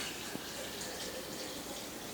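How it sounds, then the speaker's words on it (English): Hot homemade detox tea pours steadily into a glass canning jar, a continuous close splashing trickle with no pauses. "So I'm just going to pour it in here."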